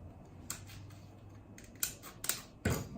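Snips cut the end off a piece of metal lath, giving a few sharp, quiet metallic clicks and snaps spaced unevenly over a soft background hum.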